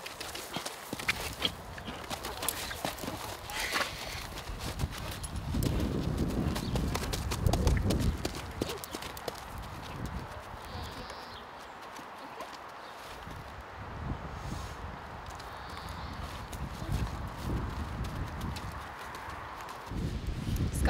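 A horse walks with steady hoof clip-clops on a Norwegian farm, moderately close, with low rumbling handling noise and brief voices in the background.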